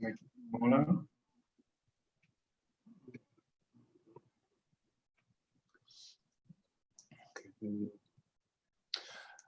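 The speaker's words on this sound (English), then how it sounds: "I'm clicking, listen to me now. I'm clicking share" Computer mouse clicking: a few sparse, faint, short clicks spread through a mostly quiet stretch, with a brief murmur of voice near the start.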